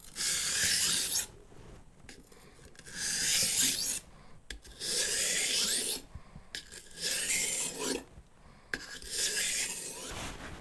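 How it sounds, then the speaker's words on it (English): A kitchen knife is stroked across a whetstone in long rasping passes, four or five bursts of steady scraping separated by short pauses, close and clear with no talking. "this is my first time for sharpening a knife"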